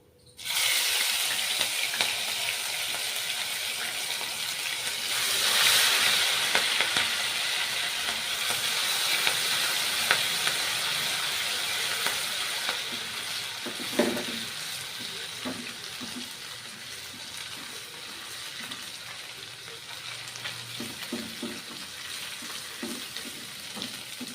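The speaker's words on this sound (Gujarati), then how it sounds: "ત્યારબાદ આપણે 3G પેસ્ટ એડ કરીશું." Ginger-garlic-chili paste hitting hot oil in a pan for stuffed capsicum curry, giving a steady, loud sizzle throughout, with a few soft stirring knocks and scrapes near the end.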